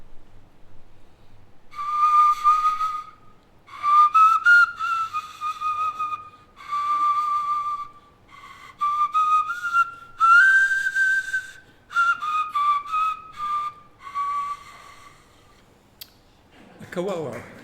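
A kawawa, a bone flute made from lamb bone, plays a series of breathy whistled phrases of varying length, fairly close and clear with short pauses between notes, ending with a brief rustle.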